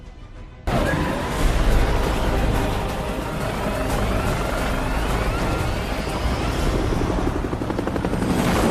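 A helicopter suddenly roars in after a brief quieter moment, rotor chop and engine whine loud and close, continuing steadily to the end.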